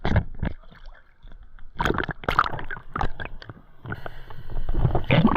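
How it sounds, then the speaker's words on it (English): A distant boat propeller whirs steadily underwater while spearfishing off Newport, Oregon, its faint whine rising later beneath irregular bubbly clicks and sloshing bursts. "Now that sound you're hearing in the background, if you don't know, is a boat propeller."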